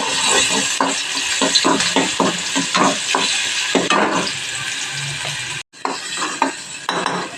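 A spoon scrapes repeatedly around a frying pan in quick rhythmic strokes, with faint sizzling underneath.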